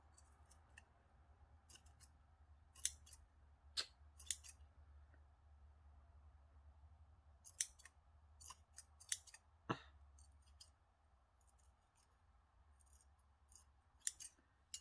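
Scissors trimming loose tassel threads, quiet crisp snips coming singly and in small clusters over a low steady hum, close and faint.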